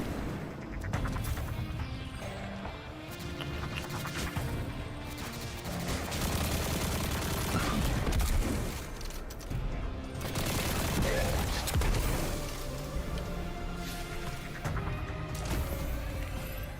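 Dense, sustained gunfire from a video game, sniper rifles among it, with overlapping shots and blasts running continuously at high loudness throughout.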